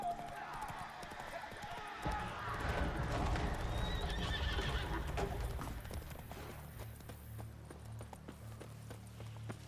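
Roach the horse galloping at a sprint in a video game, rapid clip-clop hoofbeats with a whinny, loud and close, the hooves thinning to scattered steps toward the end.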